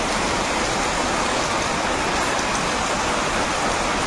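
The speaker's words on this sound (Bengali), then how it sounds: "বৃষ্টি কিন্তু ভালোই জোরে হচ্ছে।" Rain falls hard in the Sundarbans at night, a constant, even wash of broadband hiss without speech.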